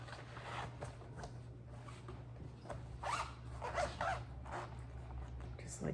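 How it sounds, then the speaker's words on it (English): A zipper bag holding pearl cotton embroidery thread is zipped shut, giving a few close, quick scratchy zipping strokes over a steady low hum with a quiet room behind. "Just like zipped up some pearl cotton in my zipper."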